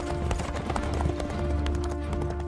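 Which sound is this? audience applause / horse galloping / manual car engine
horse galloping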